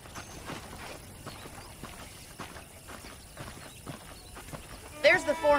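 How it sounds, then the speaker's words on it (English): Horse hooves in the video game Red Dead Redemption clip-clop at a steady walking pace, evenly spaced and close, ending in a louder burst of sound. "The horses are saddled up over here."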